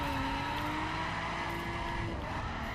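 Tires of a Maserati MC12 squealing in a long skid while drifting in The Crew, over a steady engine drone, loud and continuous.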